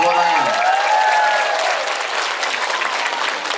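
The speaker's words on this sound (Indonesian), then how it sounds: "Tepuk tangan." Loud, dense applause from the audience at a religious gathering and open house at an Islamic boarding school, sustained throughout with a brief voice fading at the start.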